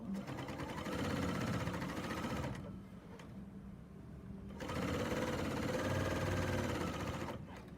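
A serger stitches quilt binding in two long, steady runs of rapid mechanical whirring, pausing briefly between them, close and loud.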